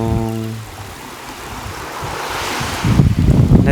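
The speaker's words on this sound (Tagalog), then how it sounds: "Guys, pakinggan nyo yung alon ha." Ocean waves wash onto the beach at a camp by the sea, a steady broad roar of surf with gusty wind buffeting the microphone. A louder rush swells near the end, and a brief tonal sound is heard at the start.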